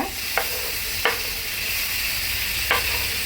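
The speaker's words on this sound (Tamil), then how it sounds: "தக்காளி நல்லா வதக்கிக்கோங்க." Chopped tomatoes sauté in a hot pan after onions for a kanava (squid) dish, a steady crackling sizzle broken by three sharp spatula scrapes, close and with no speech.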